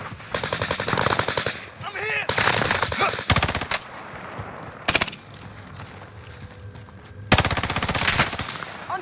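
Automatic gunfire from a Fara 83 rifle in a Call of Duty Warzone match on Fortune's Keep, loud rapid bursts separated by short pauses, with in-game voice callouts between them.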